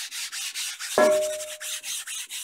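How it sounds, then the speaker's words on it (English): A wooden board rubbed along the textured table of a Rikon 25-210H 12-inch planer/jointer gives one short, close corduroy-like rasp with a faint ringing tone, heard over a steady pulsing background hum. "So if I take this board and run along there"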